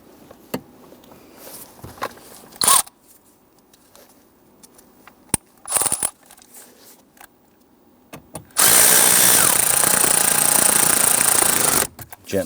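Power screwdriver whirring in one sustained burst of about three seconds as screws are driven into a plastic knee panel on a 2011-2019 Ford Explorer, preceded by scattered light clicks and handling taps.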